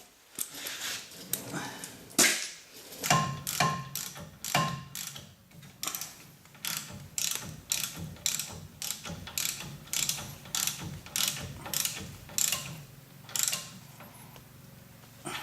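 A ratchet wrench snugs small bolts, about size 13, on the axle of a 2003 Dodge 2500 during parking brake and axle seal work: a long run of rapid, steady clicking bursts, close and fairly loud, with no talk.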